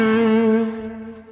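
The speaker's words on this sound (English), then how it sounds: "The reverb I have on now is the Little Plate by Soundtoys." Sustained slide guitar notes played through a plate reverb and echo effect, a bright harmonic-rich tone ringing steadily and then fading away over a reverberant tail, with no voices.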